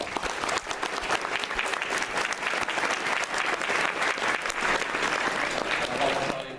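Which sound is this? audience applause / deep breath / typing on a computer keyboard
audience applause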